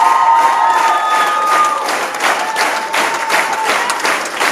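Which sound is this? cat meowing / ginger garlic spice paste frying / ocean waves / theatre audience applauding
theatre audience applauding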